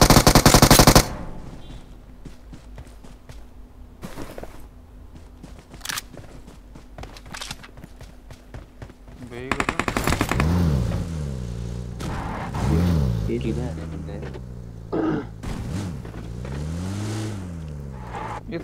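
Automatic gunfire in a shooting video game opens with a loud burst, followed by sparse, fainter shots and game sounds, then a player talks over the later stretch.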